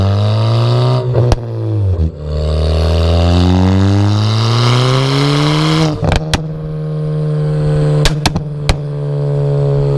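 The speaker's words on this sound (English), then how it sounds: "Throttle punch here, so it should be this clip right here." A Ford Fiesta ST engine revs under a full throttle punch, loud and close, its pitch sweeping up and down through repeated surges with sharp clicks between, no voices.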